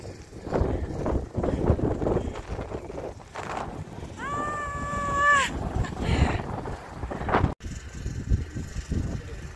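Strong wind at Corniche beach in Abu Dhabi buffets the microphone in heavy gusts over a steady roar, with a short whistling tone rising midway and a brief dropout near the end.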